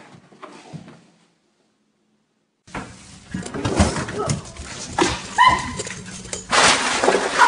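A dog makes odd whimpering, cooing noises, faint at first, then after a short silence louder and close with bursts of strange yelps and rustling.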